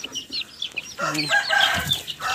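Young chicks being moved into a new enclosure on a small home farm cheep in quick, high, overlapping bursts close by, with a few lower clucking notes mixed in.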